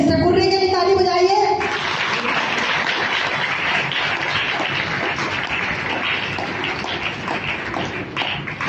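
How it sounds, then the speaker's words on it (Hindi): A church congregation at Full Gospel Church in Bhilai breaks into sustained applause after a brief spoken line, dense clapping continuing steadily and fairly loud through the rest of the moment. "आइए सिस्टर पुण्य के लिए ताली बजाइए।"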